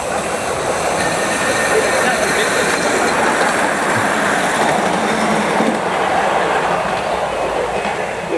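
A miniature Flying Scotsman train rumbles past close by, steady clattering and rolling noise throughout with a faint squeal.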